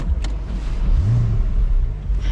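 A Porsche with a Stage 2 M-Engineering tune cranks and fires up close by, a deep low rumble swelling with a brief rising engine sweep before settling into a steady throaty idle.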